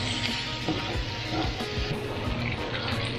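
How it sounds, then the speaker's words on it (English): Fajita vegetables sizzle loudly and continuously in a hot cast iron skillet, a dense crackling hiss with occasional pops and faint stirring. "We've got a beautiful skillet of fajita veggies sizzling."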